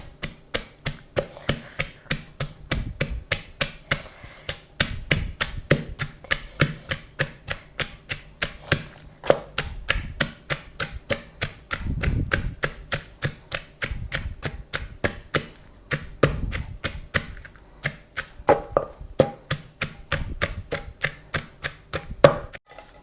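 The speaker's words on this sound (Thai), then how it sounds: "เสร็จแล้วเราก็มาตำ" Wild grape salad being pounded in a mortar with a pestle, a fast, steady rhythm of sharp wooden knocks, close and loud, with no talking.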